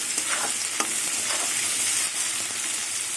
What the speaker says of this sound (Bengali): কিছুক্ষণ পেঁয়াজ আর আলু ভাজবো